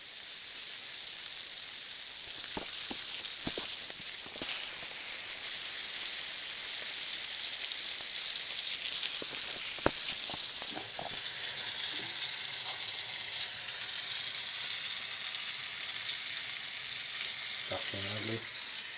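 A slice of sea salt and pepper bloomer bread fries in a hot pan with a constant close sizzle and hiss, broken by a few sharp crackles and light scraping taps.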